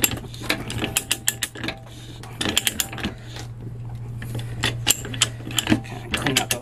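Ratcheting pipe threader cutting threads, comparing a $33 Harbor Freight TAR-100 with a Ridgid 12-R, with repeated clicking ratchet strokes in irregular bursts over a steady low hum, close and moderately loud.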